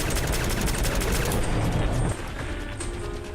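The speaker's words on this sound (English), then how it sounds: "we could shoot it full of spy pistols super fast" Rapid pistol fire from the video game Fallout London: a dense, fast burst of close shots that runs for about two seconds, then stops, leaving a quieter background.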